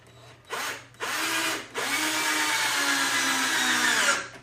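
A cordless power drill whirs up in two short bursts, then runs in one long, loud sustained whine before stopping.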